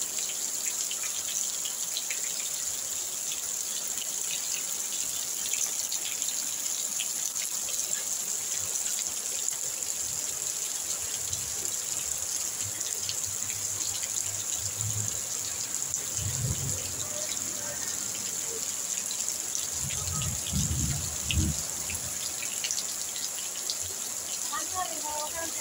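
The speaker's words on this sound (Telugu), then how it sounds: "చూడండి, వర్షం ఇప్పుడే స్టార్ట్ అయింది." Light rain just beginning to fall on a Friday afternoon, a steady soft hiss throughout with a few low thuds and rumbles midway, heard outdoors at moderate level.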